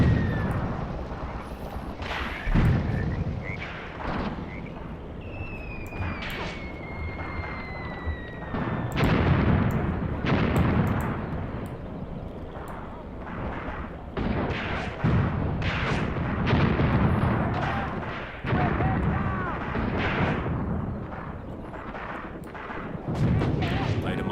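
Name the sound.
machine gun fire in a WWII tank video game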